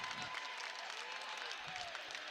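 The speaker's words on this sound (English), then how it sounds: "Some sarcastic chats and some sarcastic claps" Scattered, half-hearted sarcastic clapping from the crowd at a men's college volleyball match between Long Beach State and USC, steady but fairly faint with broad crowd murmur behind it.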